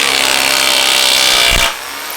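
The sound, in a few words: rotary hammer drilling through wood into concrete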